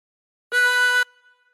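A single held chromatic harmonica note drawn in through hole 4, clean and steady for about half a second, then cut off with a faint tail.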